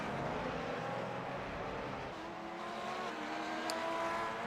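Race cars in a sim racing game at Suzuka International Circuit, engine drone steady and loud with tones dropping as they brake into the hairpin, a continuous mechanical roar.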